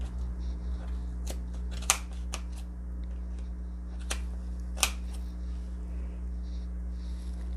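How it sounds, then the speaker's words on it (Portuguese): Small scissors snipping crochet yarn on a minimalist Christmas pennant, giving a few sharp, separate clicks spread out over a steady low hum, close and quiet, with no talking. "a tesoura ela passa aqui no meio, tá vendo? Pra conseguir cortar."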